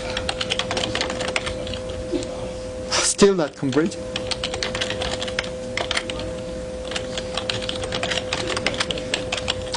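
Someone types on a computer keyboard in quick, continuous clicking bursts that run throughout, close by. Someone talks briefly over the typing, and there is a short noisy scrape midway.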